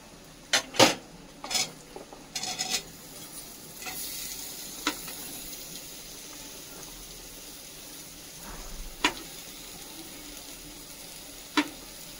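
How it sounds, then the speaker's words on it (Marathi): Masala-coated vegetable fries in hot oil in a home kitchen, sizzling softly and steadily. Several sharp spoon scrapes and clinks against the pan come early, then fewer scattered stirs follow over the hiss. "हे आपल्याला 2 ते 3 मिनिट असं तेलामध्ये पूर्ण भाजून तळून घ्यायचं"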